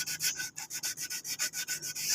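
A motorcycle part is sanded by hand at a roadside paint shop, with quick, even back-and-forth rasping strokes, about a dozen in a row, close and continuous with no talking.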